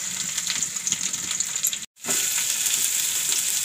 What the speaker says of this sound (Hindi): अब हम इसमें ऐड करेंगे हमारी कटी हुई प्याज